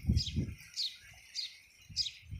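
A small bird chirps four times at an even pace, each note bright and brief, with low rustling and handling noise in between.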